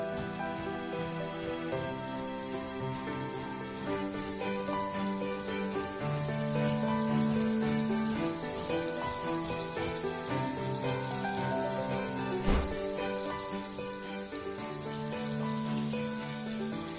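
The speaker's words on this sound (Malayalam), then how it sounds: "ഇതുപോലെ 2 ഭാഗവും നമുക്ക് മറിച്ചിട്ട് ഒന്ന് ഫ്രൈ ചെയ്തെടുക്കാം" Mutton keema vadai shallow frying in hot oil gives a steady, dense sizzle and crackle, beneath continuous background music.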